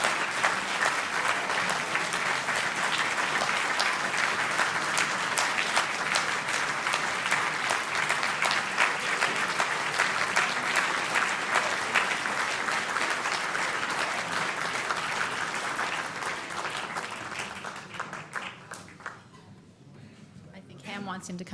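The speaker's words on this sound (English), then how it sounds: "get a little bit more of the applause" Long, sustained applause fills an awards ceremony hall at the Ridenhour Prizes, thick crowd clapping that holds steady before tapering off near the end, with voices murmuring beneath it.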